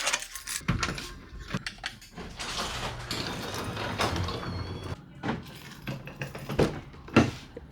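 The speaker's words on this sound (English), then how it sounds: "now we get the trim back in there" Plastic dashboard trim on a Toyota Chaser is pressed and snapped back into place after a head unit install. Close, irregular clicks, rattles and scraping handling noises come in uneven bursts.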